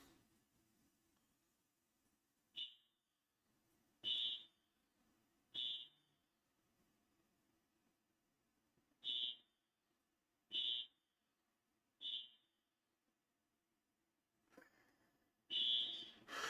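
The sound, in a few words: building fire alarm going off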